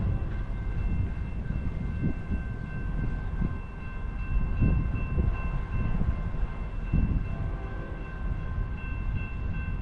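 A manifest freight train rolls past in California's Kings-Tulare county, a steady loud rumble of cars with a sustained high tonal whine over it and no voices.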